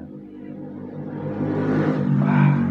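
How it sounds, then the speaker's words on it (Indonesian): An engine growls and rises in pitch as it revs, its exhaust rumbling louder toward the end, close and continuous. "Itu suara knalpot indah sekali."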